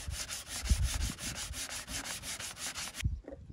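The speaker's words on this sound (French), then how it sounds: "Petit ponçage des zones écorchées." Scraped patches on a BMW E46 car body being sanded by hand, a fast steady rhythmic rasp of back-and-forth strokes, close and continuous, ending abruptly.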